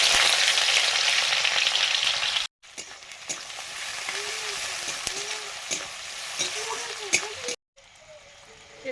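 Chopped onions hit hot oil and fry with a loud, steady sizzle, broken by brief pauses and faint stirring and clinks while the pan keeps crackling.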